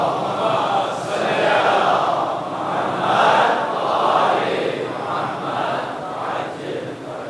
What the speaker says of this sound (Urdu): صلوات پڑھیے محمد وآل محمد۔